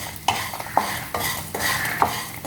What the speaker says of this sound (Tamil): இப்போ நம்ம வதக்கிட்டோங்க.